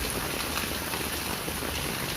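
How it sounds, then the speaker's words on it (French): Steady rain falling outdoors, a dense, even patter that lasts throughout without a break or any voices. "Il pleut. Une pluie qui se calme en quelques minutes."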